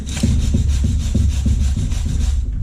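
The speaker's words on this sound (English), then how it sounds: "Grab a brush here and" A wire brush scrubs a fresh weld clean in quick back-and-forth strokes, loud and close, with a steady rasping rhythm of about three strokes per second and no talking.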